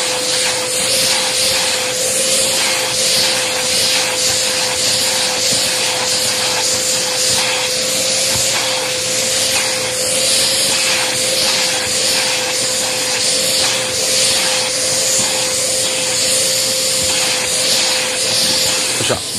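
A vacuum cleaner runs at a cat shelter, a close, steady, unbroken hiss with a constant motor whine that lasts throughout and never pauses.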